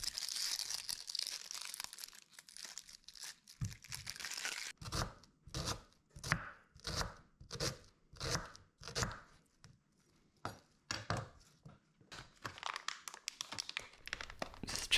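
A knife chops red onion for a Mediterranean chicken meatball sub, a close, quiet series of crisp, evenly spaced cuts and crunches that come in a rhythmic run, with lighter rustling before and after.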